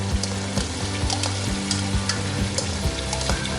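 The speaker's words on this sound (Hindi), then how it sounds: "अब मैं तेज़ फ्लेम पे ही इस मसाले को भून रही हूँ।" Masala frying over a high flame while being stirred, a dense continuous sizzle with repeated spatula scrapes and knocks against the pan, close and loud, with no voices.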